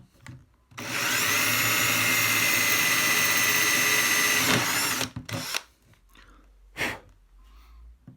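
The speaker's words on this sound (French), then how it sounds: "mon carrelage a été parfaitement percé" A power drill bores through ceramic tile, a loud, steady whine running about four seconds before cutting off, followed by a few short bursts and clatters alone with no talk.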